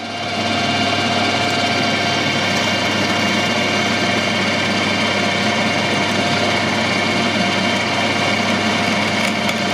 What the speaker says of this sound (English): And I've got a 3mm drill